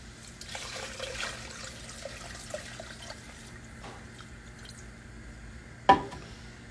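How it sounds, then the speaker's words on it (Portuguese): Water poured into a pot of beef and beer, a soft trickling and splashing that runs through the first few seconds and then tapers off, followed by a single sharp clank of the pot or lid near the end, with no talk. "E se a cerveja não cobrir, você completa com água."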